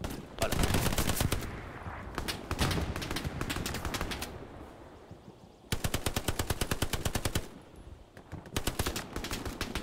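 Bursts of machine gun fire in the World War II shooter game Hell Let Loose, loud and close, rapid rattling volleys separated by short pauses, with faint voices underneath.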